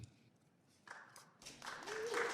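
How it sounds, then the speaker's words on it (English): An audience at a US congressional hearing on Pakistan breaks into applause. It starts faint and scattered, then swells into fuller clapping over a couple of seconds. "Y'all don't need to clap for me."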